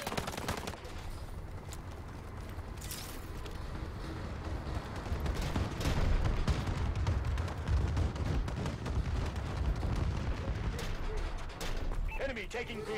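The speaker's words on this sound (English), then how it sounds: "Enemy bombing run overhead." Enemy bombing run in Call of Duty: Advanced Warfare multiplayer, a continuous dense barrage of explosions and gunfire rumbling loudly throughout, with a radio-style voice and other talk over the chaos.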